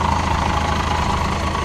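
An old city bus of nearly 15 tonnes idles its engine close by, a steady low rumbling drone with an even throbbing texture, heard alone.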